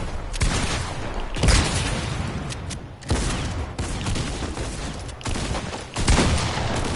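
Fortnite gunfire comes in dense, loud bursts of rapid shots and booms, separated by brief gaps of a second or so, close and continuous, with no speech over it.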